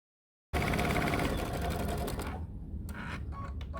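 A sewing machine stitches quilt blocks together on a 5/8-inch seam, running steadily and close for about two seconds before easing into short intermittent bursts and stops. No one speaks.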